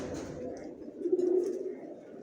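Racer pigeons in a loft give a soft, low cooing that swells briefly in the middle of a steady, murmuring backdrop, close by and moderately quiet.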